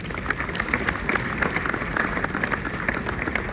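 An audience at an HIV/AIDS awareness event claps in a busy, uneven patter of many hands, sustained throughout at moderate loudness with faint background murmur.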